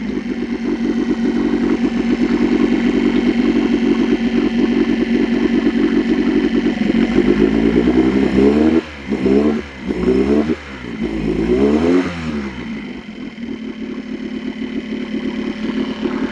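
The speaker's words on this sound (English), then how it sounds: "this goes on for a long time on tickover" A Mercury 9.9 outboard motor idling on tickover while running low on petrol gives a loud, steady close-up chug that stutters and dips for a few seconds partway through, then settles back into its even idle.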